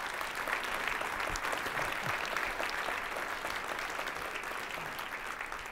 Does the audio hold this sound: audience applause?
yes